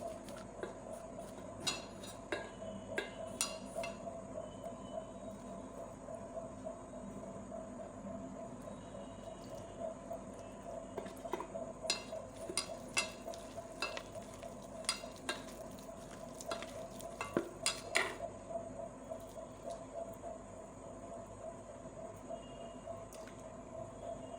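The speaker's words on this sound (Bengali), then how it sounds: "এখানে পরিমাণ মতো জল দিয়ে দিয়ে ব্যাটারটা গুলে নেব আমি হাত দিয়েই গুলছি" Flour batter for crispy fried bok (hummingbird tree) flowers being mixed by hand with water, a soft wet squishing and stirring with intermittent sharper clicks, steady and close under a constant low background hum.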